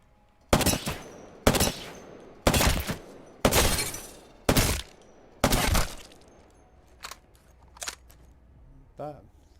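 An Apex Legends submachine gun in the firing range fires a full magazine as six loud, evenly spaced bursts of rapid shots, followed by a few quieter single shots and a short mechanical rattle.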